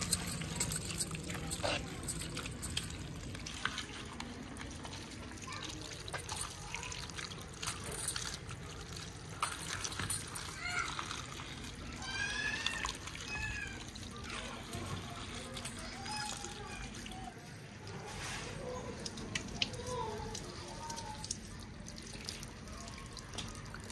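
Freshly dug vegetables are rinsed in water outdoors in a village, with soft drips, trickles and light splashing that continue in a quiet, irregular pattern under occasional background voices.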